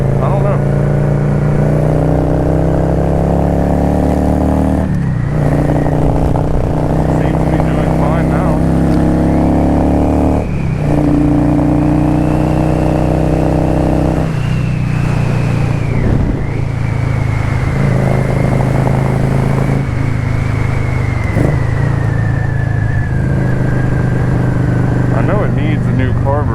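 A motorcycle engine with a junky carburetor runs steadily and loudly throughout, its pitch rising and dipping with throttle changes while a rider talks over it.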